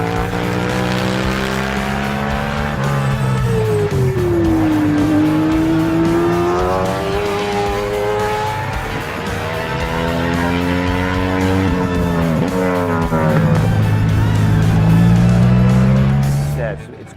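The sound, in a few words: racing sidecar engine passing on the TT course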